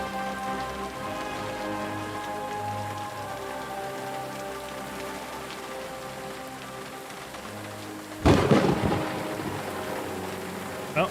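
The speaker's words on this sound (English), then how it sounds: "Well, thanks to the storm, nobody probably heard that." Heavy rain pours onto surfaces in a thunderstorm in the video game Kingdom Come: Deliverance II, a constant patter that runs throughout, broken near the end by a sudden loud crack of thunder that rolls on.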